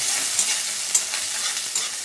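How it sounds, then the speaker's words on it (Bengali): Gravy pasta ingredients frying lightly in a pan, a loud close hiss of sizzling with a few faint stirring taps over about two seconds, no voices. "একটু হালকা ফ্রাই করে নেবো, আর একটু করে নিয়ে পাস্তাটাকে ওর মধ্যে দিয়ে দেবো।"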